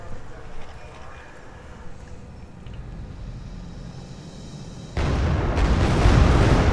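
Bombs dropped by a fire bomber explode in a video game: a low, rumbling murmur gives way to a sudden loud, broad blast that keeps roaring steadily to the end.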